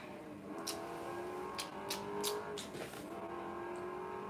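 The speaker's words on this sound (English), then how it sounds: "Got my vroom vroom car." A racing car engine whines and revs in a game, with gear shifts and short bursts of tire noise, no voices.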